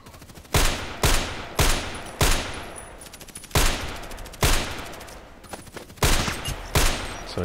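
Repeated gunshots ring out in the video game Contract Wars, about a dozen sharp, loud cracks in irregular bursts and singles, each trailing into a short echoing decay, with no talking.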